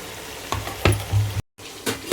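Chicken pieces with tomato and green chilies sizzle in a hot pan in a home kitchen: short, close bursts of frying and stirring, broken by a brief silence before the sizzle resumes.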